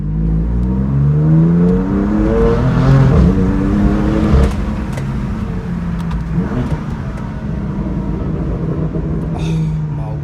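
A powerful car engine roars as it accelerates hard through rising gears, loud and close, then settles into a steadier cruising hum.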